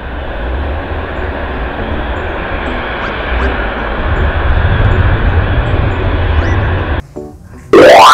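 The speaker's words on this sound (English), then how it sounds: "pesawat terbang" A steady broadband engine roar, like an airplane flying overhead, holds for about seven seconds before cutting off, followed by brief unrelated noises.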